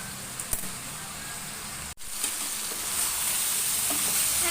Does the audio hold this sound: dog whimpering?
no